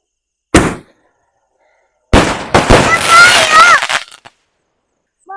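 Sivakasi firecrackers set off outdoors: one sharp bang, a pause, then a loud cluster of explosions with crackling pops and whistling tails, ending in scattered faint pops.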